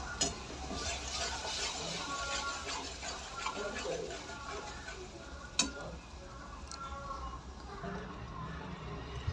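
Spices and an onion, coconut and coriander paste sauté in a pan for a masoor dal curry, a steady soft sizzle with occasional spoon clinks and stirring scrapes, heard under a talking voice.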